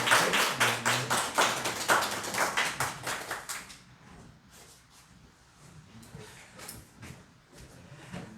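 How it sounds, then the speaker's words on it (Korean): A church congregation claps together, loud rhythmic hand claps in a steady beat for about four seconds, then scattered softer claps and taps trailing off. "박수 해주시기 바랍니다."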